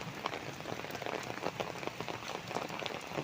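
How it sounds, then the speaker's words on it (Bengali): Torrential rain pours down in a steady, dense patter on surfaces all around, with no voices, just the continuous drumming of the downpour. "সকাল থেকেই মুসলধারে বৃষ্টি শুরু হয়ে গেছে"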